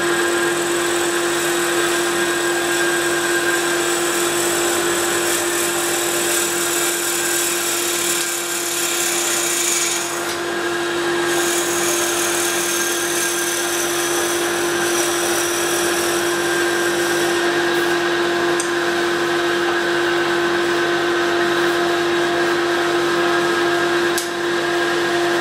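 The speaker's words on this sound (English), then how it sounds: "drill a hole of a 45 millimeter Forstner bit, 22 millimeters deep" A drill bores into wood with a 45 millimeter Forstner bit, cutting a 22 millimeter deep hole while making salt and pepper mills; a loud, steady motor whine and cutting noise run unbroken for the whole stretch.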